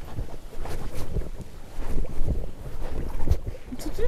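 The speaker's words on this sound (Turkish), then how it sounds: "Nasıl rüzgar var?" Wind gusting beside a river at a family tent campsite, a continuous rough rushing buffeting the microphone, with no voices.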